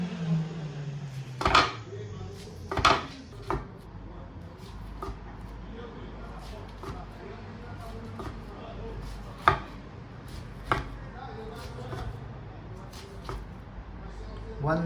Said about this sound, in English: Now I'm gonna cut it randomly.